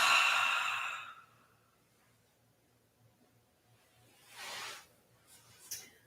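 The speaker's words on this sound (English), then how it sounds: "Big, extensive inhale. Huge, complete exhale." A single deep, complete exhale during yoga breathing rushes out breathily at the start and fades, followed by quiet and a softer breath later.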